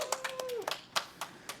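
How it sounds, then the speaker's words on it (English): A few people clap sparsely and unevenly, about eight separate claps spaced out over under two seconds, fairly quiet, with a brief tone and faint voice alongside. "Clap for that."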